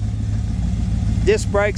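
A 1962 Chevrolet Impala wagon with a 350 V8 and 700R4 transmission idles in a low, steady, even rumble close by. A voice speaks briefly near the end.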